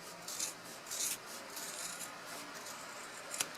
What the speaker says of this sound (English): I'm going to cut straight across.